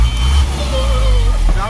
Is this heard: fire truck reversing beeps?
yes